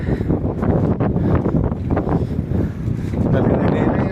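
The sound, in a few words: strong wind while cycling in the Netherlands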